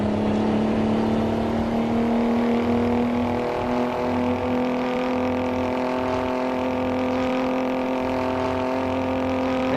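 An older truck engine in American Truck Simulator labours uphill in a loud, sustained, droning rumble with a steady pitch and no letup throughout.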